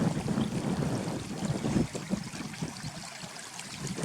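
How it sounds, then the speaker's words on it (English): Little brook flowing through a valley near a farm cottage, a steady close rush and gurgle of shallow water with some wind buffeting on the microphone, no talk. "Just a nice little brook where you can cool off your feet after a long walk."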